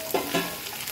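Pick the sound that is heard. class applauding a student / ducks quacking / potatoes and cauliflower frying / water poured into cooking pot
potatoes and cauliflower frying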